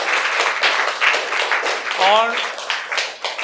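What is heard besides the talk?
audience applause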